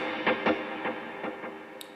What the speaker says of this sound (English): I have a dual delay with a dotted eighth and quarter note and a lot of reverb